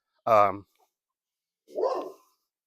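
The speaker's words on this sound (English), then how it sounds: "Let me get past that dog so you don't hear any more barking." A big dog gives two barks about a second and a half apart, the first loud, sharp and close, the second lower and rougher, with silence around them.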